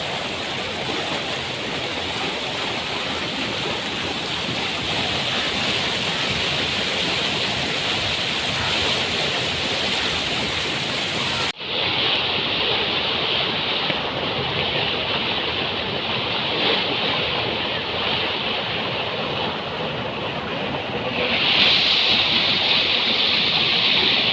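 Water from a leak near a tank in Kolhapur gushes out like a waterfall, wasting thousands of litres. It makes a loud, steady, close rushing roar that never lets up, with no voices.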